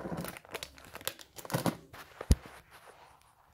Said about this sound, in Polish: Na razie paczuszka jest,